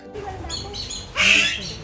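A peacock-like bird at Ueno Zoo in Japan gives a single loud, harsh squawk partway through, rising sharply over quieter bird calls and background noise.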